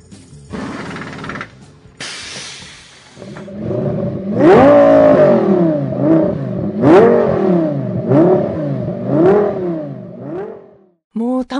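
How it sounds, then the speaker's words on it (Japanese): An Audi R8 LMS race car's V10 engine revs repeatedly, loud and close, with a series of rising and falling blips that sweep up and back down, after a brief hiss and clatter at the start. "そのねこれ5気筒の二重奏というかな、V10 サウンドなんですけど"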